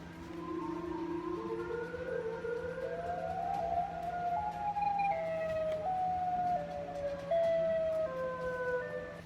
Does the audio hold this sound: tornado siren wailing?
yes